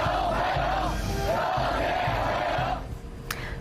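Crowds cheering at Donald Trump's arrival in Beijing, a dense roar of many voices at a distance that thins out near the end.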